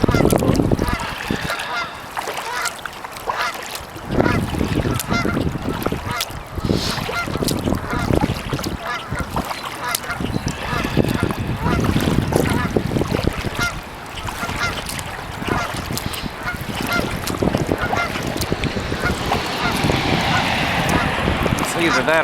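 Canada geese honking on a reedy pond, recurring calls spread through the scene at moderate distance, with wind and water noise and a person talking intermittently over them.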